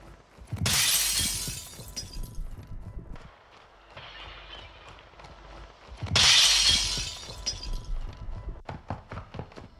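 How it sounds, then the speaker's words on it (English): Glass shatters in the Warzone 2 video game. Two loud, bright crashes land a few seconds apart, each followed by tinkling, scattered debris and thumps, with no voices. "Here's a couple examples of glass shattering"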